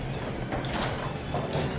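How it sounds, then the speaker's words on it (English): A garage door closes in a shop lined with OSB plywood on a cold day, a steady close rumbling slide lasting about two seconds with no talk over it. "I'm gonna close the garage door."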